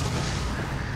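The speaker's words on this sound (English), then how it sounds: "Sticky bombs don't hurt me." Sticky bomb detonation in Resident Evil 7, a loud, dense, low rumbling boom that fills the whole second without a break, with no talking.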